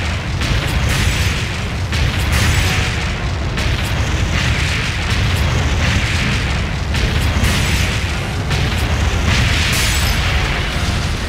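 Cannon fire and explosions on ships in the arcade shooter Deadstorm Pirates, a dense, loud barrage of booms and bursts repeating across a constant rumbling din, with no talking.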